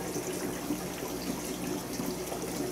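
Apple cider vinegar is poured carefully into a bottle, making a steady, soft trickling splash throughout with no other sounds.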